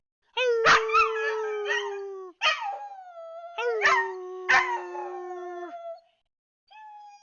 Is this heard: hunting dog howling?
yes